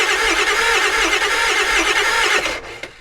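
A Ford 7.3 Powerstroke turbo diesel in an E350 4x4 van cranks on the starter with a loud, steady, rhythmic whirring for about two and a half seconds, then cuts off without firing.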